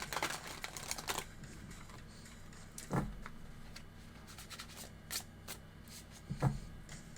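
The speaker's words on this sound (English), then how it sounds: "Let me just do a few quick shuffles here." Quick tarot card shuffles with soft papery flicks, a busy burst at the start and then scattered single snaps and taps, quiet and close.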